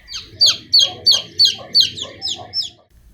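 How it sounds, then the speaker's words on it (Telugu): A small chick cheeps in a steady run of about eight high, bright peeps, evenly spaced and close, with nothing else around them. "అమ్మ దగ్గరికి వెళ్ళాలని కోడిపిల్ల నెమ్మదిగా చిక్ చిక్ చిక్ చిక్ అంటూ బయలుదేరింది."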